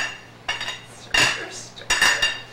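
A utensil stirs seasoned flour in a bowl for fish dredging, with three distinct bursts of metallic scraping and clinking against the dish, each lasting a fraction of a second, over a quiet kitchen background.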